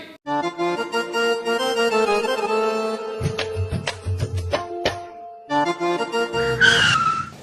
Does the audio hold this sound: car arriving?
yes